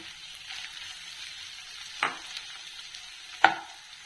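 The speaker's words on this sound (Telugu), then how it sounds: "ఇప్పుడు టమోటా ముక్కలు పచ్చిమిరపకాయ ముక్కలు వేస్తున్నాను" Tomato and green chilli pieces fry in a pan after ginger-garlic paste, cooking for vada curry: a soft steady sizzle with two sharp stirring clanks, close and unaccompanied by talk.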